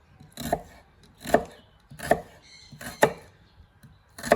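An onion is sliced with a knife on a hard wooden cutting board while preparing a quinoa salad: five sharp, close chops at an even, unhurried rhythm, with no talk.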